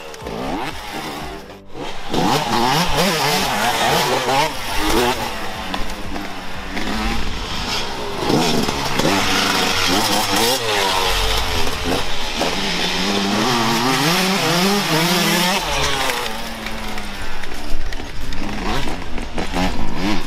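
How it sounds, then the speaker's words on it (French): A motorcycle engine starts and races, loud and close with rising and falling revs, while an excited voice talks over it almost throughout. "Il bouge la moto et la démarre et part en pole position."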